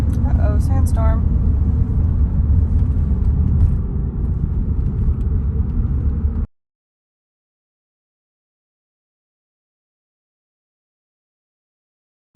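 Steady low rumble of a car driving into a dust storm near Price, Utah, with heavy wind buffeting, loud and continuous for several seconds before cutting off abruptly.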